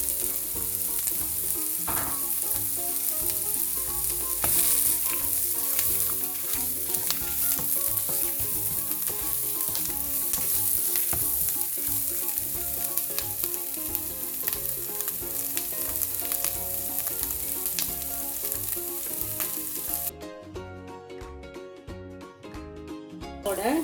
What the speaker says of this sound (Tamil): இது நாங்கள் வதக்கி போட்டு அரைக்க போகிறோம்.